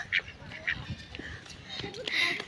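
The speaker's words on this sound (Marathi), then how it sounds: "हे बघ बदक." A duck outdoors near a bridge gives a few short, nasal quacks at moderate distance, mixed with people talking close by.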